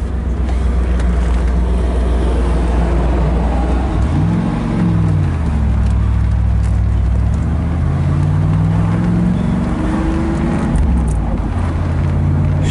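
The engine of a 1991 Chevrolet Camaro Z28 convertible with a 5-speed manual hums steadily from inside the cabin, its pitch rising and falling as it accelerates and shifts gears.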